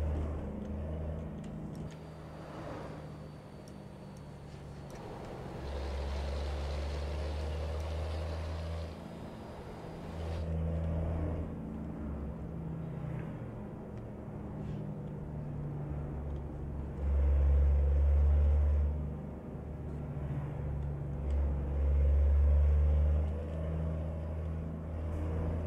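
A Mercedes Atego truck engine in Euro Truck Simulator 2 accelerating hard with the throttle floored: a steady low rumble that swells into deep droning surges several times, close and continuous, with no talk over it.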